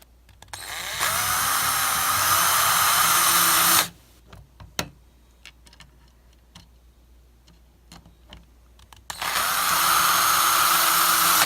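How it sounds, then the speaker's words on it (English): A power drill driving screws to mount electronics on a workbench base, two loud whirring bursts at start and end with quieter clicks and ticks of handling between them. "Now go ahead and tighten the screws."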